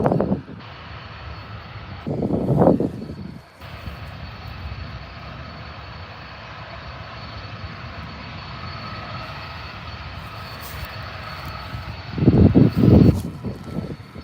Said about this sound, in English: As Qantas 737's also pushed back for departure